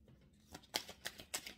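Tarot cards shuffled and drawn at close range, a few soft papery riffles and flicks in quick succession, faint and alone.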